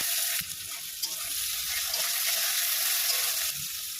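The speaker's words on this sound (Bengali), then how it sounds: "একটু পেঁয়াজ কেটে নিয়েছিলাম, পেঁয়াজটা ভেজে নেবো।" Chopped onion frying in hot oil with cinnamon, cardamom, cloves and bay leaves, giving a steady, close hissing sizzle with occasional stirring scrapes and no talk.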